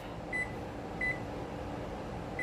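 A microwave oven runs steadily with a low hum while heating steamable broccoli in a home kitchen, with three faint short beeps or tones at regular intervals.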